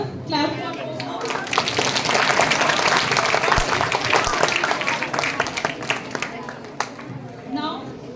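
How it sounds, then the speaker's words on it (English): Students at a school quiz break into loud, dense clapping that swells and holds for several seconds before thinning out, with voices heard briefly at the start and end. "Clap for both house."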